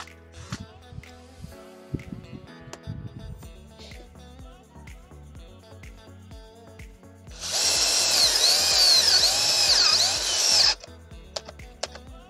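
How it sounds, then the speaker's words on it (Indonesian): A Worksite CD306 12V cordless drill with a 10 mm wood bit bores into mahogany, a loud steady whine of about three seconds rising over lighter handling clicks and knocks, then cutting off. "saya menggunakan mata bor kayu ukuran 10 mm di kecepatan nomor 2 terlebih dahulu"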